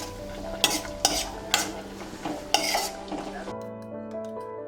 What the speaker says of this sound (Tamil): நெய்யில் இப்போ நம்ம திராட்சையும் முந்திரியும் வறுத்தெடுத்துக்கலாம்.